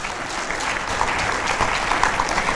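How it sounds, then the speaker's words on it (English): Audience applause at a Wear UG Day celebration, steady dense clapping throughout, fairly close and even in level with no breaks. "The clapping was too short."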